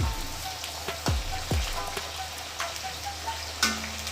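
Cauliflower florets fry in hot oil in a pan, a steady crackling sizzle broken by a few louder knocks and spatters, close and continuous with no talking.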